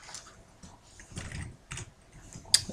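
A few scattered keystrokes on a computer keyboard tap out a short command in sparse clusters, close by with a sharper click near the end and no talking.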